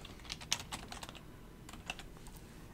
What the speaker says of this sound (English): This is just typing normal text.